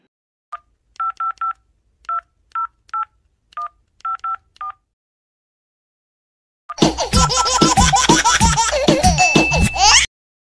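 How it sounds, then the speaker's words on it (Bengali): Telephone keypad tones, a series of short paired beeps tapped in uneven small groups, followed after a pause by a loud burst of giggling laughter. "এখনই সিআইডিকে ফোন করছি।"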